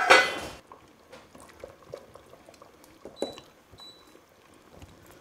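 A cooking pot of Savoy cabbage rolls with minced meat filling is handled and moved, giving a loud opening clatter, then soft liquid sloshing and scattered metallic clinks close by.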